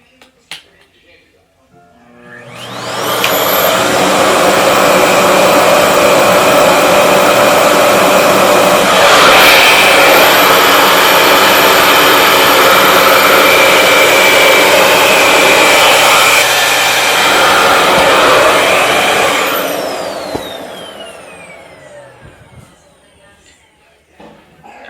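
A Revair reverse-air hair dryer running on low heat spins up to a loud, steady whooshing drone that holds for about seventeen seconds before winding down.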